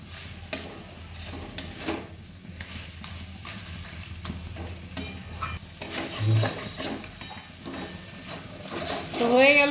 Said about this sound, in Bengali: নাড়তে হবে ভালো করে, না নাড়লেই তলায় লেগে যাবে।